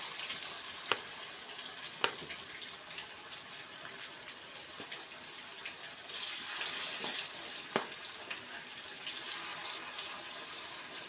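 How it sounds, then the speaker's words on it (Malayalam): Marinated chicken frying in oil, giving a steady crackling sizzle with scattered sharp pops, fairly quiet and without voices. "അപ്പം നമ്മൾ ചിക്കൻ ഫ്രൈ ചെയ്യാൻ പോവാണ്."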